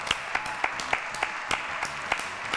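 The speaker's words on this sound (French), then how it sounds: "Très bien, applaudissements donc pour Vincent et pour Ludovic." A French television studio audience claps during a comedy show, the sound arriving as a series of evenly spaced, rhythmic clap bursts roughly three per second, moderately loud and without voices over it.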